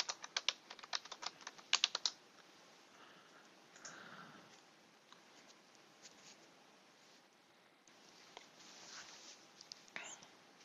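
Rapid keystrokes on a computer keyboard as a password is entered while joining a Windows 10 PC to a Server 2012 domain, with dense close clicking bursts early on and sparser taps later over quiet room tone.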